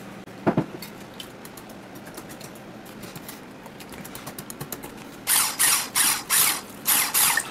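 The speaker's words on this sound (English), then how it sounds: "Looks like we're ready to whisk up." A whisk beats keto pancake batter in a bowl, starting with light rapid clicking and swelling into loud rhythmic scraping strokes in a steady repeating pattern near the end, close and without talk.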